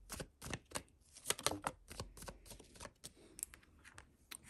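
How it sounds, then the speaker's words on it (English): Tarot cards being shuffled by hand up close, a quick run of crisp riffling slaps and flutters with irregular rhythm, fairly quiet and with no talking. "So you can skip my shuffling if you'd like."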